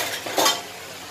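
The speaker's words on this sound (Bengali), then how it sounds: "এটা হচ্ছে আলু ভর্তার জন্য আমি ভেজে নিচ্ছি" Chilies frying in a pan for mashed potatoes give a close, bright sizzle with a brief stirring scrape partway through, no talking.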